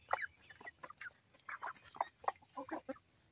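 Several Leghorn hens cluck in short, scattered bursts nearby, soft and irregular over a quiet background.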